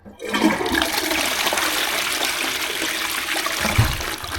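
A toilet fitted with Duck Fresh Boost Marine Wave cleaning-foam rim blocks flushes with a loud rushing gush of water that swirls steadily, then tails off into a draining gurgle.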